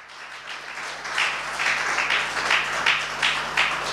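A church congregation applauding to acclaim the Lord, a sustained, moderately loud round of many hands clapping that swells after a quiet start.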